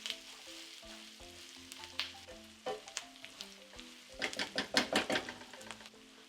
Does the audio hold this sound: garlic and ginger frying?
yes